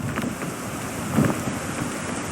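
Rain pours in the climbing video game Peak, a steady, dense hiss of falling water that fills the whole moment with only slight swells in loudness.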